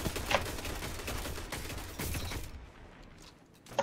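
Rapid automatic rifle fire in a Destiny 2 multiplayer match, a dense stream of shots with clattering bursts that cut off abruptly near the end, leaving quieter game ambience.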